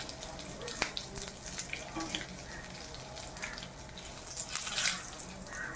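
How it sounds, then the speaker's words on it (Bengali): Cumin seeds, cinnamon and two bay leaves hitting hot oil for a fish curry, a close, wet crackling sizzle with scattered pops and a spitting swell near the end. "এখন আমি তেলে 1 চামচ জিরা, একটু দারচিনি আর 2টো তেজপাতা দিয়ে দিচ্ছি।"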